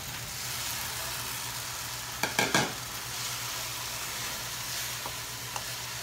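Ground beef and pork sizzle with softened tomatoes in a pan for Kapampangan giniling, a constant close frying hiss with a brief cluster of utensil clanks midway and a couple of faint taps later.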